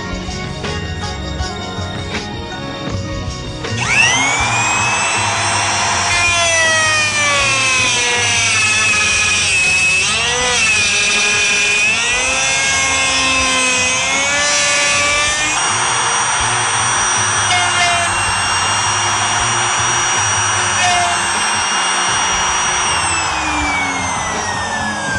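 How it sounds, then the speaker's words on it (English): Router cutting dovetail tails in a board clamped in a General #861 dovetail jig, a steady high whine that rises in after a few seconds, sweeps and shifts in pitch as it passes through the wood, then runs on with music underneath. "With the bit height set, you cut the tails first."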